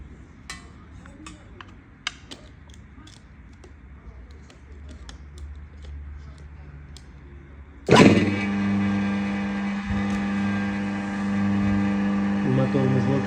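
A 4 kW, 1.5 rpm aluminium electric mixer motor starts with a sudden loud onset and then runs with a steady, bright mechanical whine and hum, after quiet clicking and ticking beforehand, and a voice talks over it.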